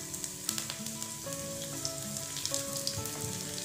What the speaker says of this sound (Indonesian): Saya masukkan bawang putih